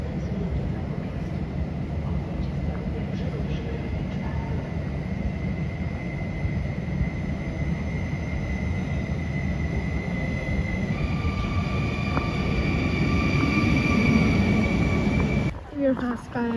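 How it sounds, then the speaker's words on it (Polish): A passenger train from Modlin pulls into a Warsaw station with a loud, sustained low rumble and rolling rail noise, steady tones riding over it, and a sudden clatter at the end. "I wjeżdża ze składem z Modlina do Warszawy."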